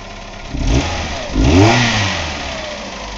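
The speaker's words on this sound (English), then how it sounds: "it's got a slight tapping in the valves" A 1999 Ford Escort ZX2 engine with about 120,000 miles, running with no coolant system, revs up twice then settles toward a steady idle, loud and close, with faint light tapping.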